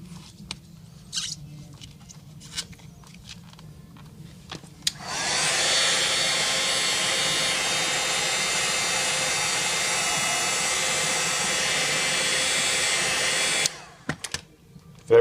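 A heat gun blows a loud, steady roar onto the digitizer glass of a Samsung Galaxy Tab 4 10.1. It starts abruptly, holds evenly for about nine seconds, then cuts off, with faint handling clicks before and after.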